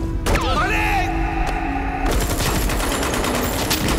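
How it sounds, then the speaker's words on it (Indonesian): Rapid film-scene gunfire sprays bullets in a dense, loud burst of overlapping shots, preceded by a shout and a brief thud. "Singgaram memberondong Peta dan Pongodi yang sedang hamil besar dengan peluru."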